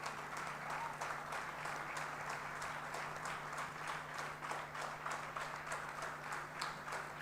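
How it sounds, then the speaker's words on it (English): Sustained audience applause at a conference closing ceremony of an institute's golden jubilee celebration in Bhubaneswar, a dense, steady roar of many hands clapping that continues evenly throughout, with a low hum beneath. "What an ovation."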